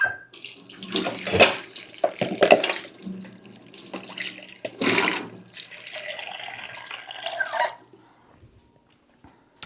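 Tap water runs into a cooking pot in a kitchen in several bursts, splashing and gurgling close by as the faucet opens and closes, then goes quiet at the end.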